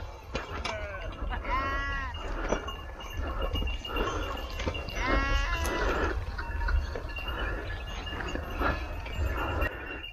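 Goats and sheep bleat in several wavering calls, some close and loud, others farther off, spread across a noisy outdoor rural setting with a steady low background rumble.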